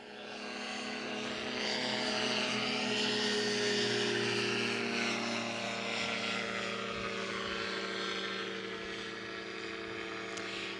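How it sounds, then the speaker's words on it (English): A gyroplane flies and maneuvers overhead at a fly-in, its steady engine and rotor drone loud and sustained, swelling slightly mid-pass then easing, with no talk. "which shows you how maneuverable the gyro is"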